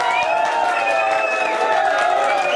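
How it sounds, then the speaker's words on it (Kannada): Applause and light cheering from a Lions Club gathering of motorcycle riders, a continuous wash of clapping heard close with some voices mixed in. "ಓಕೆ, ಈಗ ಚಪ್ಪಾಳೆ ಉಂಟು"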